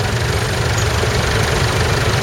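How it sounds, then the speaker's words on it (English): Vintage International Harvester Titan tractor engine idles steadily, a loud, continuous low rumble with no pauses or talk. "The tractor that you see that's turning around now is probably the oldest tractor that we have here"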